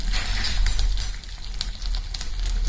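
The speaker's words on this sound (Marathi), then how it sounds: "हे वाटाणे तेलात घातलेले आहेत आणि पाच ते सहा मिनटं त्याला छान असे परतून घ्यायचे आहेत" Fresh green peas sauté in a little oil in a pan: a steady close-up sizzle scattered with small crackles and pops, running evenly throughout with no voices.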